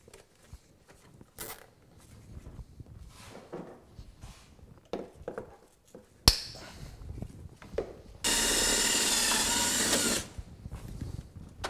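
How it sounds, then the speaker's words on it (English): A drill bores a hole through the floor pan of a Polaris RZR 900XP utility vehicle, a steady loud two-second whir standing out after scattered handling clatter and knocks. "So all I did was I just drilled a hole here in this floor pan."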